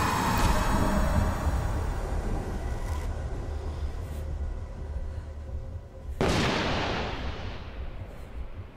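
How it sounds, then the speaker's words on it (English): A sudden sharp, gunshot-like bang rings out in the horror game Vacuuclus, cutting through a low rumbling background and then fading slowly. "What the freak was that? Sounded like a goddamn gunshot."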